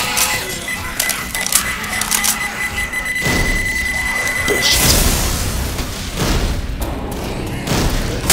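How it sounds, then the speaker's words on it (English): Pipe bomb thrown and going off in the zombie shooter Left 4 Dead 2, a beeping tone followed by a loud blast and rumbling debris, with gunfire and game noise around it. "Throwing a pipe bomb!"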